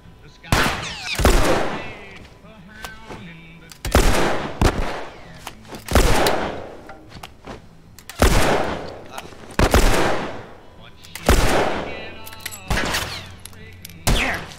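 Gunfire in The Last of Us, heard as slow, widely spaced single shots, loud and close, each followed by a decaying tail of echo.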